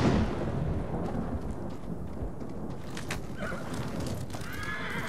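Thunder in the video game Ghost of Tsushima: a sustained, loud rolling rumble with rain-like hiss, and horse whinnies and hoofbeats mixed in near the end.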